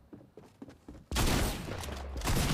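Dense, loud bursts of video game gunfire erupt suddenly after a few lighter thuds and clicks, sustained as a heavy volley of shots to the end.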